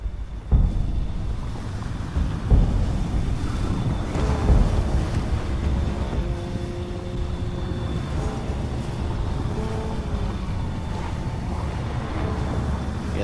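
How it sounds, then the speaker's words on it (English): Tsunami water rushing in across the land in the god game From Dust, a steady, dense roar of surging water and wind-like wash that holds loud and constant throughout, with no talking. "our tsunami is on its way"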